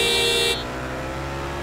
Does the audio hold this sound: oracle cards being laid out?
no